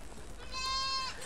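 Goats bleat inside their house during a group parasite spraying, one wavering, nasal bleat rising over a steady background hiss of the sprayer and shed noise.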